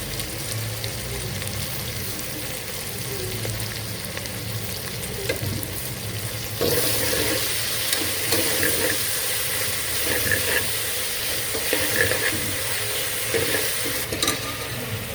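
Curry leaves and mint fry in hot oil while a spoon stirs them. A steady close sizzle grows louder and brighter partway through, with scraping stir sounds on top.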